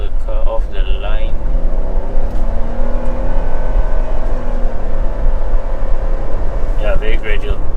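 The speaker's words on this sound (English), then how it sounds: "I'm gonna floor the car off the line." A 2020 Toyota Raize with a 1.0-litre engine is floored from a standstill, its engine note rising steadily as it pulls gradually, heard from inside the cabin while someone speaks briefly at the start and end.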